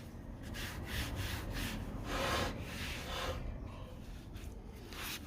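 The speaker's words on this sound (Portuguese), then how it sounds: "no corpo do meu vaso, para dar tipo mais uma lixada, né? Tipo um acabamento mesmo." The body of a handmade clay bonsai pot is sanded by hand, a close, soft rasping scrape in repeated back-and-forth strokes of uneven length, with no talking.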